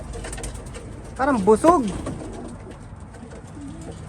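Racing pigeons coo softly in a couple of short, throaty bursts close by over a quiet background, with a person speaking quietly around them.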